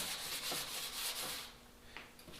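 Block sanding by hand with 220-grit paper on car body filler, rhythmic rubbing strokes that fade partway through, close and faint, no voices.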